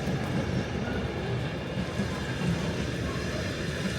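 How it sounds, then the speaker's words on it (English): A long freight train rolls past on the main line by a station platform at Swinton, South Yorkshire, a steady close rumble with faint rhythmic wheel clatter sustained throughout. "Still going, long train is that one, it's still going through."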